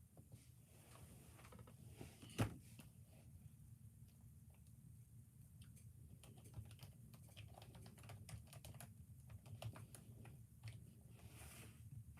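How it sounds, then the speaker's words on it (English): Soft, steady typing clicks on a wireless keyboard over a low background hum, quiet throughout, with one sharper knock near the start and no speech. "Gotta love a wireless keyboard"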